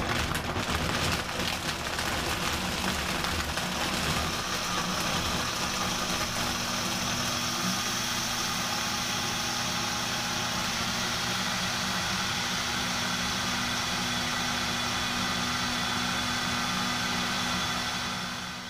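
A Vitamix 7500 blender churns ice and strawberries into a daiquiri, its loud, steady motor roar and grinding wash running continuously for the whole stretch, slightly rougher at the start, with no talking over it.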